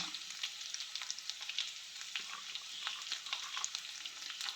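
Clam meat frying in a pan, a steady, fairly quiet sizzle with soft crackles and occasional stirring scrapes throughout, no voices.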